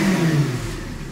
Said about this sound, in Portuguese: o jeito que é o ronco dessa belezinha, velho